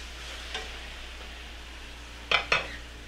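Meat laid into a pan of hot peanut oil gives a low steady sizzle with a few soft clinks of utensils, including a sharp double knock near the end, with no voices.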